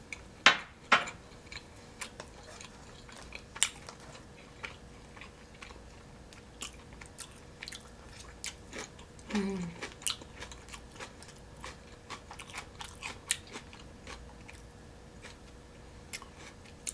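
Crispy pork eaten with kimchi gives quiet, close crunchy bites and chewing that come in scattered bursts, with occasional faint clicks of cutlery or dishes in between.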